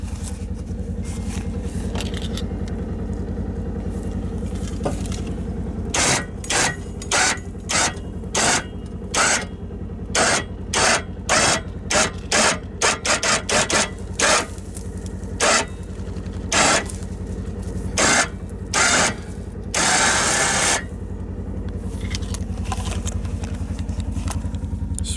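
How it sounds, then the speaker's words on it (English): A winch strains to drag a stubborn wooden fence post out of the ground, giving a loud, steady engine drone broken by a long series of regular clattering clicks and thumps as it pulls, with no talking. "I'm gonna try the winch."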